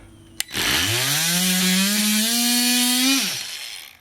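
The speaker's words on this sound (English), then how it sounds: "take your blade and put it on the lug you want to cut, like that" A blade cuts into the rubber lug of an old tractor-style tire, a sharp click followed by a steady, droning mechanical whine of about three seconds that rises slightly before cutting off, loud and close with no voices.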